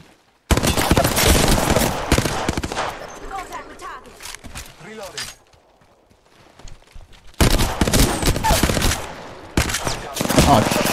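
Video-game shotgun fire comes in heavy, rapid blasts, loud and close, clustered in two dense bursts separated by a quieter stretch of scattered noise.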